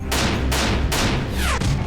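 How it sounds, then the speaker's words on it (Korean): Three gunshots ring out in quick succession, a dramatized sound effect of a 1908 shooting at the San Francisco ferry pier, each loud blast rolling into a long echoing tail over dense, busy background noise. "느닷없이 울려 퍼진 세 발의 총성이 평상시와 다름없던 아침의 분주함을 깨뜨렸다"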